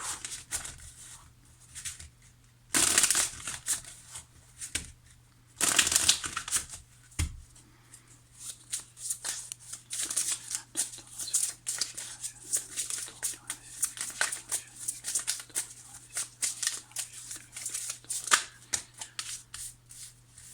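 Tarot cards being shuffled by hand, with two loud bursts of riffling early on followed by a long stretch of steady, softer card rustling and tapping up close; no talking.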